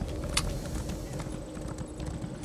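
Horse hooves clip-clop in the ESO (Elder Scrolls Online) video game, a steady, moderately close patter of footfalls over a busy low rumble of game ambience, with no talk over it.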